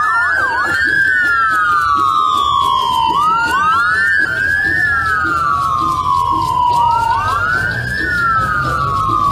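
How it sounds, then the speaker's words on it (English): Wailing sirens from a convoy of vehicles arriving at a political rally, several overlapping rising-and-falling tones sounding loud and continuous over a steady rumble of traffic and crowd. "sirens are heard blaring as a fleet of vehicles roll into a renewed hope event"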